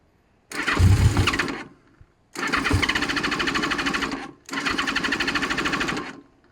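A 1980 Honda CB 650 Custom motorcycle engine, freshly fitted with four new spark plugs, cranks and catches in three loud bursts, sputtering and revving with brief pauses between, no talk over it.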